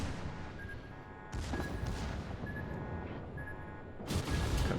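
Warship secondary guns fire in a naval video game, a steady wash of dense, rumbling gunfire with louder bursts of shots near the start and end, no voices over it.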